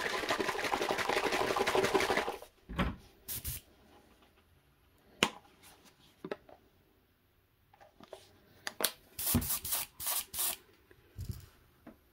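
Createx opaque white paint is sprayed over a 5-inch minnow lure blank with a taped bill, giving a steady close hiss for about two seconds, followed by scattered clicks and light handling noises.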